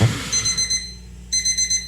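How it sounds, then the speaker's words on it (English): A bakery shop timer alarm beeps loudly and close in rapid electronic pulses. Two clusters of beeps are separated by a brief pause, with no talking. "That's what my timer sounds like at the shop"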